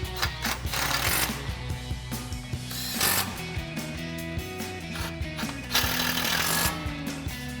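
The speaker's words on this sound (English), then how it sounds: "We'll grab our 8 millimeter socket and tighten these back down." A ratchet with an 8 millimetre socket tightens bolts on a Ford F-150 front suspension, giving repeated bursts of quick metallic clicking with short pauses between them, close and clear, with no voices.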